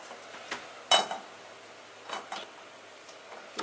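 Metal lid set on a pot of couscous, a sharp clatter near the start followed by a few lighter clinks and taps of cookware, fairly faint.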